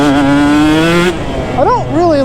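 A KTM 150 SX dirt bike engine holds a steady, buzzing two-stroke tone, loud and close, then cuts off, followed by a couple of quick rising and falling revs toward the end.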